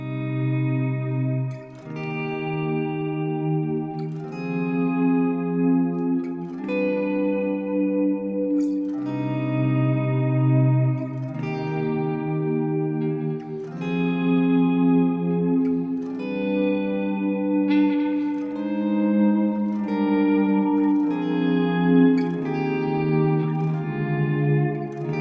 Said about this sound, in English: let's play this chord progression again in the context of swells, so you can hear even better how this could apply to ambient guitar